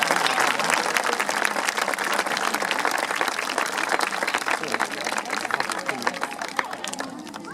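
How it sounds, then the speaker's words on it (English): A school sports day crowd claps and applauds continuously, a dense, loud wash of hand claps from many people sustained throughout, with some chatter mixed in. "Let's give a great big clap."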